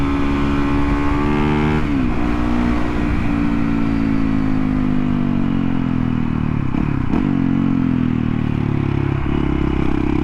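A supermoto dirt bike's engine revs hard while riding, its buzzing note rising and falling between throttle blips, loud and close with mechanical clatter and no talk.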